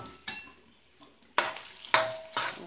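Sausage frying in oil in a pan while onions wait to be added, a home-cooked dish of sautéed eggplant and bitter melon; bursts of sizzling and stirring scrapes come in several surges, close and fairly loud, with no talking.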